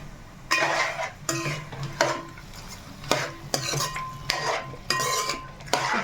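A metal spoon scrapes and clinks around a pan while chicken masala paste is stirred back and forth, with soft sizzling beneath the repeated close, rhythmic strokes.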